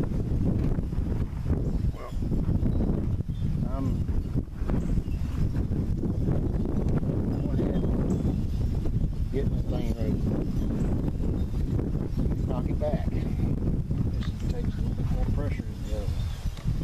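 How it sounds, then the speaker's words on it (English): Strong wind blows outdoors where a crossbow is being sighted in, buffeting the microphone with a constant deep rumble and rush throughout, while someone talks over it. "We are getting a lot of wind."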